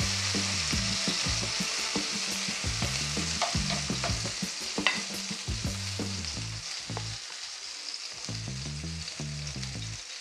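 Tomatoes sizzle and fry in a pan up close, with repeated stirring scrapes and clinks breaking through the steady hiss.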